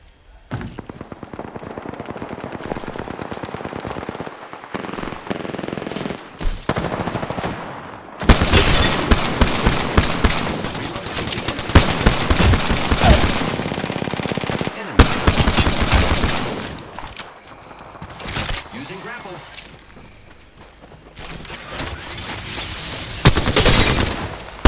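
Video game gunfire from an enemy team: dense, loud automatic bursts and booms that come and go, with sustained rapid fire through the middle and a final loud volley near the end.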